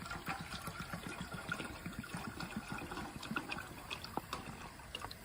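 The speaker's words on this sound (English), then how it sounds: "pour a little water in there from your GI issue U.S. canteen." Water poured from a GI issue U.S. canteen into a pot for bagged rice beside a Coleman dual-fuel 424 camp stove, a steady close trickle and splash over faint outdoor background, with no voices.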